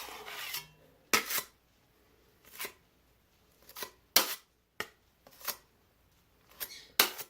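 Thick drywall mud worked with putty knives gives a series of short, scraping, slapping strokes at irregular intervals, close and fairly quiet, with near silence between them.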